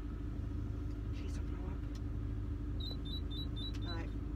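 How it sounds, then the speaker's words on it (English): A cold car engine warming up, a steady low rumble and drone right up close with faint chirps and clicks over the top and a person talking over it. "It might just be the car warming up. Doesn't normally make that noise, no."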